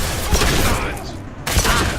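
Loud, dense bursts of rapid gunfire from combat in the Mass Effect 2 video game, near and continuous, with one brief break before the shooting resumes.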